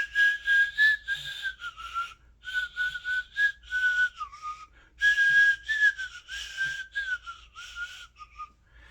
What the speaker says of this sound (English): Practice just doing that whistle if you can get that tongue shape down.